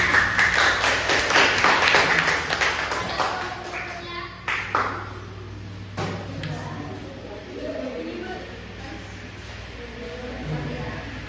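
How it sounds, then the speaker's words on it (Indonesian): A classroom group gives a short burst of clapping during a micro-teaching lesson, loud at first and fading after a few seconds, leaving a quiet room with faint voices. "Berikan tepuk tangan."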